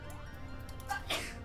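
A single short sneeze, fairly quiet, over a low steady background hum.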